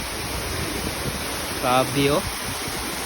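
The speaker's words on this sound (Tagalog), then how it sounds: "Ito po yung busay, yung falls." A provincial waterfall pours into a clean, clear river with a constant broad hiss, while a person briefly exclaims over the roar.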